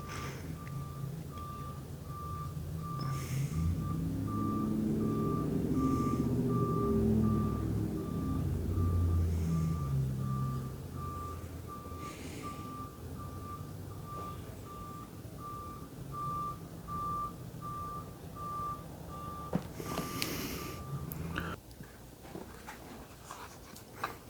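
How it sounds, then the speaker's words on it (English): A truck backs up outside a house, its reversing alarm sounding a steady run of evenly spaced beeps over a low engine rumble, moderately distant, then stopping near the end. "I'm actually going to leave all that beeping in the video"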